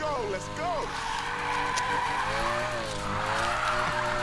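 A car drifting in Need for Speed Payback, tires squealing in long wavering howls over engine roar, close and loud, with someone talking over it.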